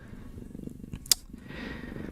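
A cat purrs close by in a low, steady rhythmic rumble, broken once by a short sharp click partway through.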